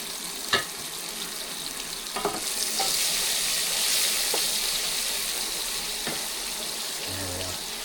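Onion and chilli frying in a pan for curry, a steady hissing sizzle that swells after a few sharp clinks of a utensil, close and continuous with no talking.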